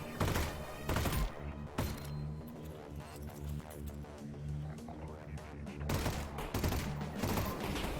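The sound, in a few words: gunfire from shooting in a video game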